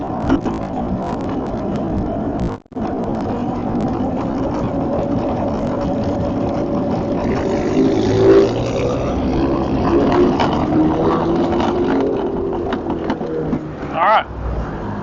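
A Razor Ground Force Elite go-kart out on a test ride, its motor droning steadily for the whole stretch with a brief dip partway through and small shifts in pitch as it moves.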